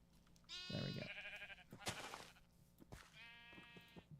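Minecraft sheep in the Sky Factory 5 modpack bleat several times in quick succession, the nasal cries close and clear over quiet game ambience.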